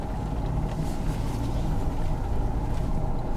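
A 2021 Ford Bronco Sasquatch drives over sand trails, its engine a steady, loud low rumble with some gritty wind and sand noise throughout, no voices present.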